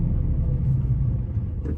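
A car's diesel engine rumbles close by, a steady low idle that holds without pause and rises slightly near the end.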